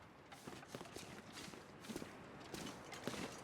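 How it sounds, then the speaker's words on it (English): Footsteps crunching over snowy ground in The Long Dark, a steady walking rhythm of soft, muffled steps under a low wind-like hiss, with no talking. "I do feel like I heard footsteps just now."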